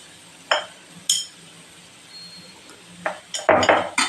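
A metal spoon stirs cooked rice into a coconut and mustard seed mixture in a pan, giving a few sharp clinks and then a louder burst of scraping and clattering toward the end.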